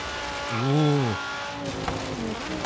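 A Lamborghini Sesto Elemento in Forza Horizon 3 spins out on gravel, its engine note swelling and falling in a quick rev over steady road and gravel rumble, with a faint crunchy scrape afterward.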